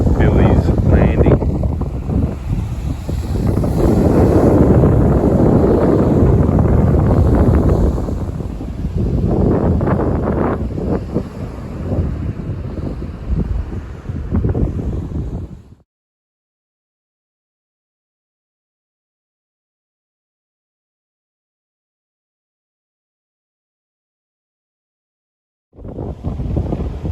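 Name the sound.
wind on a beach at Captain Billy's Landing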